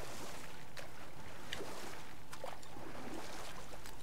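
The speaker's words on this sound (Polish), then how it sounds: "Nie lubię pływać łódkami w grach jakoś" Oar strokes row a boat through water in God of War on PS4, giving a few soft, evenly spaced splashes over a constant wash of water and ambience.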